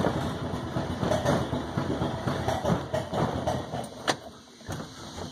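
A 2006 Mokai fitted with a Subaru engine conversion idles just after starting, a close, lumpy rumble that pulses unevenly and has a few sharp knocks and clicks toward the end.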